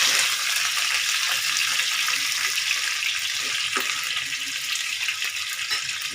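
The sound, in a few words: potatoes sizzling as they fry in a pan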